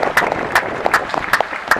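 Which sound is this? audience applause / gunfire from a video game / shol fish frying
audience applause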